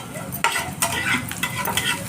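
Sliced onions sizzle steadily in about a tablespoon of oil in a pan, with crackling frying bursts and scraping stir strokes throughout, loud and close.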